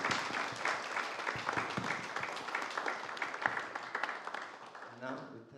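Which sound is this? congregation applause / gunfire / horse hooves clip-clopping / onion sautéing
congregation applause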